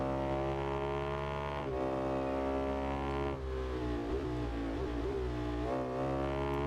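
A motorcycle engine races in the video game Ride 2, a steady loud drone with shifting pitch and a few gear changes, continuous with no talk.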